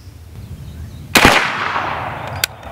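A BinTac B&W S45 semi-automatic rifle fires steel core penetrator ammunition at a target, one loud sharp report with a reverberant tail followed by a second quicker crack, with no talking.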